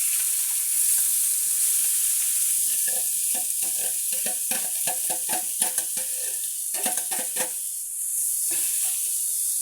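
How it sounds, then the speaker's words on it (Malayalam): Sliced onions with a little salt sauté in a pan, with a steady sizzle under repeated close spatula scrapes and stirring clatter that thin out near the end. "ചില ഉപ്പും കൂടെ ഇടാം. സവോള പെട്ടെന്ന് വഴന്നോളൂ."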